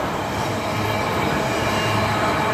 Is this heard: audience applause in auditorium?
no